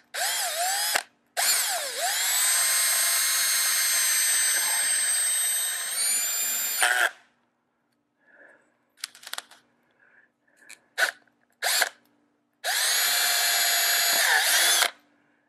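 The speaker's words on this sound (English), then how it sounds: "mark the center point and then take your drill" A power drill punches through the center post of a homemade floating camera tripod: two long, loud, steady whining runs, then quiet clicks and brief bursts, and a final sustained drilling run.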